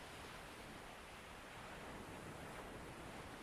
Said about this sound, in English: Other waves are coming in, but you're focusing on a single wave going out.